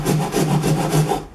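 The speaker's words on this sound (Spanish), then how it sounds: "ahora lo que voy a hacer es limar los bordes para que entre mejor" Hand file rasping back and forth along the edges of a hole drilled in a plastic scooter top case, a steady close rhythm of about six rough, scratchy strokes with no talk.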